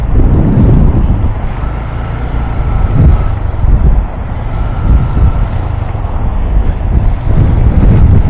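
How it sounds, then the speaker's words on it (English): Heavy wind buffeting the microphone while riding a Honda Grom motorcycle in a highway slow lane, a loud continuous low roar with engine and road rumble beneath and no talk. "Ooh, a little windy."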